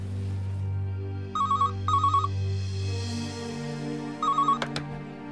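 A telephone rings in short trilling bursts, two close together then a third after a pause, over a low sustained drone in a dark horror radio-drama scene; no one speaks.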